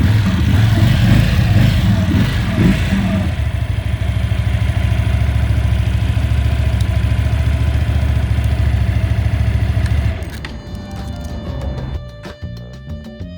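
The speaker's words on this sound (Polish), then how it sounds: "lekko przygazujemy" A loud QJ Motor SRV12 V-twin motorcycle engine rumbles steadily with a throaty, pulsing idle, then the revs drop and it settles into a rougher, quieter idle.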